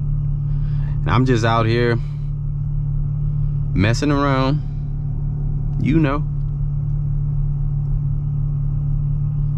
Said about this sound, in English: There's so much traffic right now.